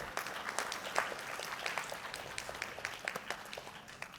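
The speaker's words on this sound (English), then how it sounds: "Can we give them a big round of applause, guys?" A conference audience gives a big round of applause, dense and sustained clapping from many hands at fairly close range, with individual sharp claps popping through the steady wash.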